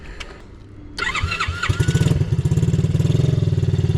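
A small SyxMoto 70cc automatic ATV engine cranks with a whirring starter, catches after about a second and settles into a loud, rapid, steady putt-putt idle close by.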